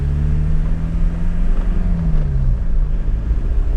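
A diesel Volkswagen Beetle drives along with its engine accelerating gently, giving a steady low drone with a rising and falling tone, under road and wind noise and with no voices.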